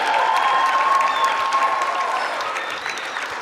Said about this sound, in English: How about a big round of applause for Miss Mia Neary?